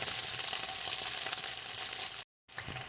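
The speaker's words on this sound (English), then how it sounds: "So I'm going to fry this up and I'll get back to you." Seitan frying in a pan gives a steady, close crackling sizzle that runs unbroken, then drops out for a moment before resuming.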